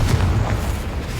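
A Confringo blasting curse exploding in Hogwarts Legacy, one short deep boom that rolls on as a low rumble for about a second.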